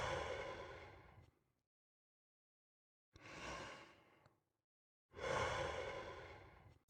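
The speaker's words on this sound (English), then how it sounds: "Added a breathing effect" A breathing effect from an indie game: three slow, breathy exhales or sighs, each swelling then fading, separated by silent gaps.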